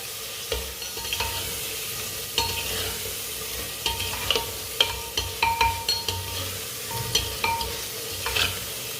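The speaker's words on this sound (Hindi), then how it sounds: "थोड़ा सा ना पका लेते हैं ऐसे मसालों को, कच्चापन खत्म हो जाएगा।" Whole spices, cardamom among them, cooking in a pan for mutton pulao, a steady soft sizzle broken by repeated scraping stirs and light clinks, close and alone without talk.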